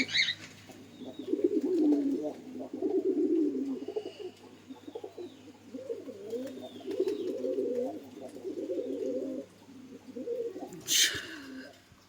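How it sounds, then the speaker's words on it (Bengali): A pair of feather-footed Lotan pigeons coo steadily in low, rolling phrases, close by, with a brief rustle or flutter near the end. "এক জোড়া লোটন কবুতর, খুবই সুন্দর বাজি করে"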